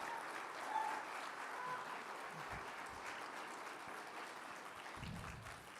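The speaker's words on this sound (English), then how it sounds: "Standing ovation." A large rally crowd gives a standing ovation, with dense, sustained applause holding steady at a moderate distance and some cheering mixed in.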